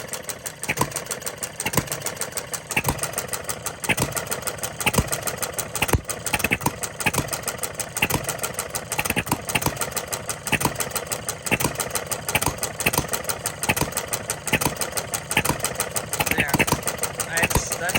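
A Coles engine idles at close range as its fuel mixture is leaned out, a steady, rapid chuffing pulse with sharp regular firing beats that carry on without stopping.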